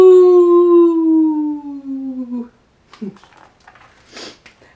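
A voice imitates a long, sliding howl lasting a couple of seconds, falling gradually in pitch, followed by quiet rustling and soft speech.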